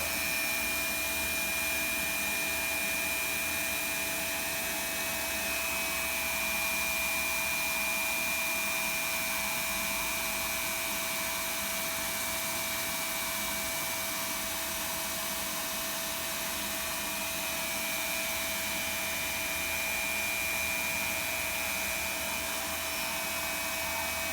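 A hot air welding gun blows a steady, loud, unbroken hiss while heat-welding a seam in vinyl sheet flooring, holding an even rushing tone throughout with no talk.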